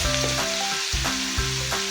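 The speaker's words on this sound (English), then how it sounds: "I'll be frying my rice in 3 batches" Nigerian fried rice fries in a hot pan, a loud continuous sizzle broken by rhythmic scraping stirs, three strokes in quick succession, close and alone with no talking.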